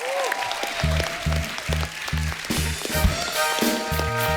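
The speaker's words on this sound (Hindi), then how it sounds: "सो आपकी जोरदार तालियां होनी चाहिए, ताशी और नुंशी।" A studio audience on an Indian TV comedy show applauds as two guests are welcomed, a steady clapping wash running under a loud, thumping band beat with bright musical tones.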